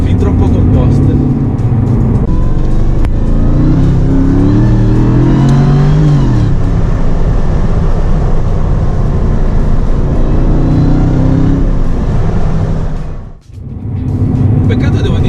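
A Mercedes SLR McLaren driving at high speed, above 150 km/h: a loud, continuous engine roar with road and wind noise, the engine pitch climbing in the middle before a brief dip near the end.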